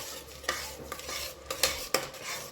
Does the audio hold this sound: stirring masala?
yes